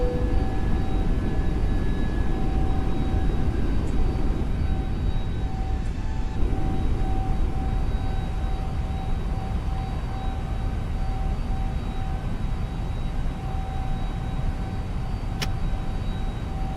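Airliner engines in steady takeoff climb on an FSLabs A321neo in MSFS 2020, a broad continuous roar with constant tonal hums, unbroken and fairly loud throughout, with no voices.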